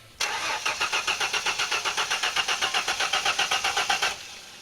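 A Mustang engine left sitting for eight years cranks in a fast, even rhythm for about four seconds, loud and close, then stops without catching.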